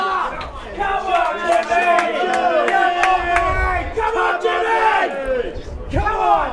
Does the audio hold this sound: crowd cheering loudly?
yes